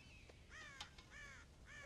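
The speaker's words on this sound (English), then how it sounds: "God damn crows!" Crows caw in the western video game Red Dead Redemption, several harsh, quiet calls repeating in an uneven rhythm over a soft background.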